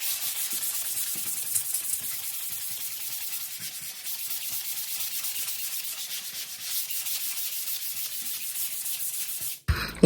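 Hand sanding a Christmas village display piece before painting, a continuous soft scratchy rubbing that goes on steadily for about ten seconds, close and fairly quiet, ending in a brief clatter.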